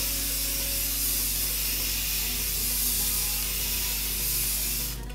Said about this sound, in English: Quite a lot of hairspray.